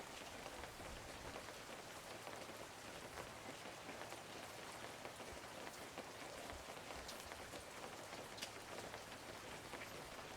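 Steady, dense rain in the fishing video game Webfishing patters evenly across the whole stretch, a continuous hiss of drops with no voices over it.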